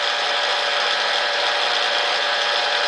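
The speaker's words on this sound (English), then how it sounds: "It's a little noisy on the highest setting, but that's because it's a gearbox" Rong Fu 45 mill drill gearbox running on its highest speed setting, giving a loud, steady, gritty mechanical whir with ratcheting gear noise that holds constant throughout, close up and with no talking.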